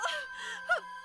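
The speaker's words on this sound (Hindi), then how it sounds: "लड़की के रोने की आवाज।" A girl wails and moans in distress, two short drawn-out crying sobs with a quivering catch in between, faint and close in a quiet space.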